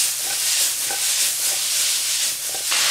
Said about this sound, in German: Und den Paprika müsst ihr jetzt auch nicht zu lange anbraten.